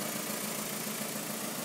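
A car engine with a bad alternator idles steadily on battery power, a continuous close, even hum with no talk.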